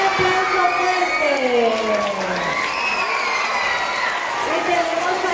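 A crowd at a children's procession honoring San Vicente de Paúl, with students taking part, breaks into loud applause and cheering, mixed with shouts, while a voice carries over the noise.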